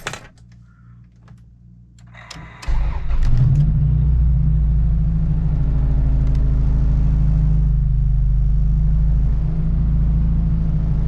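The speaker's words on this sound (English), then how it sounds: "it's time to start the car and see how everything worked" Acura Integra DC2 engine cranks with clicks and catches, then settles into a loud, close, steady idle rumble with slight rises in revs, following a short quiet stretch of small mechanical clicks.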